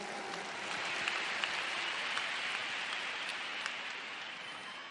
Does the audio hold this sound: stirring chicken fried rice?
no